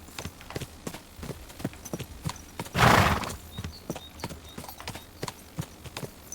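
Steady clip-clop of horse hooves at a walking rhythm in the video game Kingdom Come: Deliverance 2, with a brief loud whoosh midway.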